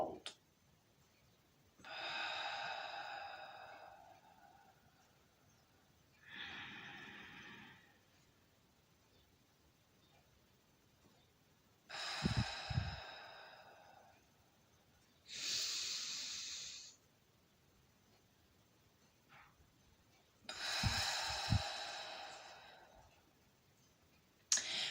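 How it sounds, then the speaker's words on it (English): Slow deliberate breaths drawn in through the nose and pushed out through the mouth, several separate airy inhales and exhales with pauses between them, close and soft, with a couple of faint mouth clicks. "breathe through our nose, out through the mouth"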